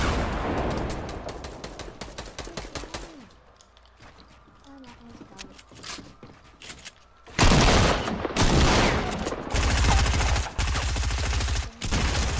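Fortnite Battle Royale gunfire: dense rapid shots at first, a quieter stretch with scattered single cracks and voices, then loud sustained bursts of automatic fire toward the end.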